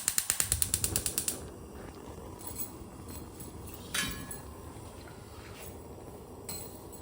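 A gas stove's igniter clicks about a dozen times in quick, even succession under a pan. A soft whoosh of catching flame and faint kitchen clatter follow.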